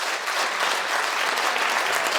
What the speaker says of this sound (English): Another round of applause, please, for Jenn White and Natalie Winston.